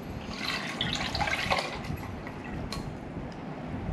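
Liquid for homemade ginger soda pours steadily into a container, a continuous splashing wash with faint clinks, fairly close and even in level throughout; no voice.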